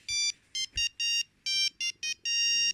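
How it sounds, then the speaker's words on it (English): A 2000s monophonic mobile phone ringtone plays a rhythmic run of bright, electronic beeping notes in short bursts, loud and clear with nothing else behind it. "mobile phone technology moved ringtones from monophonic"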